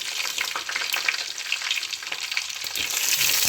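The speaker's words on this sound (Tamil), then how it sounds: "இப்போ நம்ம நல்லெண்ணெய் ஊற்றிக்கலாம், வெந்தயத்தை சேர்த்துக்கலாம், பூண்டு சேர்த்துக்கலாம்" Fenugreek and garlic frying in hot sesame oil, a close, bright, crackling sizzle with stirring, building slightly louder toward the end.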